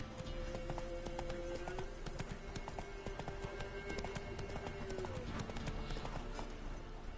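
Roach, a horse in The Witcher 3, galloping with quick, rhythmic clip-clop hoofbeats over a steady game background, continuous and fairly close.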